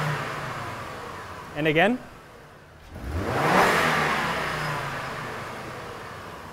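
A car engine is pushed to wide open throttle in a mechanic's bay during lean/rich fuel trim diagnosis, swelling into a loud sustained roar and holding steady, with a brief voice speaking just before.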